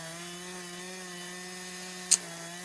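A chainsaw makes the felling cut through a spruce tree, droning steadily and loud close by the whole time, with one short sharp crack near the end.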